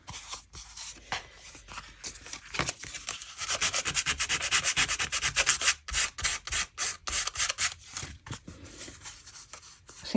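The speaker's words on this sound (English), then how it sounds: "I'm using quite fine sandpaper so that I don't damage it too much." Fine sandpaper rubs across a junk journal cover in close, rhythmic back-and-forth strokes, a dry scratchy sound in short repeated bursts with brief pauses, with no talking.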